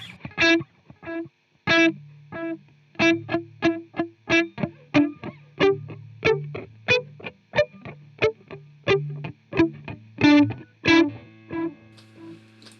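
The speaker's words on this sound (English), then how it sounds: "Let's increase the mix even more so you can hear the delay." Electric guitar played on the neck pickup through a Suhr PT100 amp plugin with tempo-synced delay, distorted plucked notes in a steady rhythmic phrase with echoes trailing each note, loud and close with no talking.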